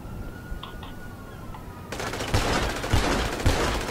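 Gunfire in GTA Online: a dense, loud burst of rapid shots starts midway and continues to the end, with a few heavier thumps inside the volley, after a quieter stretch with faint beeps.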